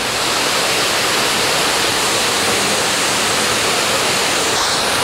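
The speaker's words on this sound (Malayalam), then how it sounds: "ഇത് ഒന്നാം വെള്ളച്ചാട്ടം, ചെറുതായിട്ടാണ് വെള്ളം വീഴുന്നുള്ളത്." The first fall of Thusharagiri waterfall in Calicut, with only a light flow of water dropping, makes a loud, steady rushing roar that fills the whole clip without any voices.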